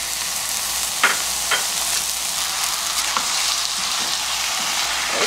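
Chicken pieces and chopped green onion sizzle and crackle steadily in a coated nonstick pan for braised soy-sauce chicken, with a few sharper spatula scrapes and stirring clicks, close and alone.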